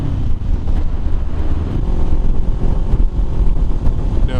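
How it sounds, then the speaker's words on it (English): Strong wind gusts buffeting a helmeted rider on the road, a loud, constant low roar of wind noise over the microphone mixed with engine rumble, surging and easing slightly without pause. "those gusts of wind were just..."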